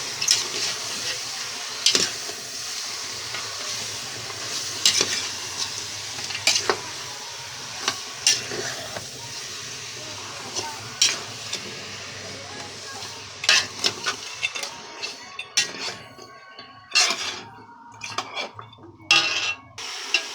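Meat of a large bird stirred in a pan as it cooks down in its own juices: repeated metal clinks and scrapes of a utensil against the pan over a low, continuous sizzle, close up.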